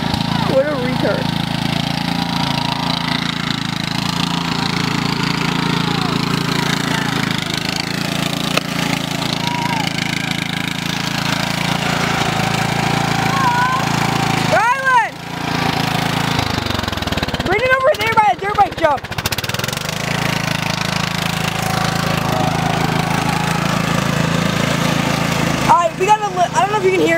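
A lawn mower engine running in muddy ground with its pulleys slipping, a steady mid-pitched drone near the microphone with several sharp revving surges and wheel whines, while a person talks over it.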